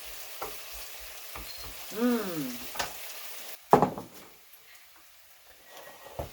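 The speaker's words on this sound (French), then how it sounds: "Donc on fait cuire nos patates. Il faut qu'elles soient dorées." Potato pieces frying until golden in a pan for a Spanish tortilla, a soft steady sizzle with a brief clatter partway through.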